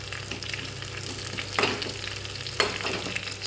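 Dried red chilies fry in hot oil with onion and curry leaves, a soft steady sizzle with a couple of sharper spits and stirring clicks, no voices.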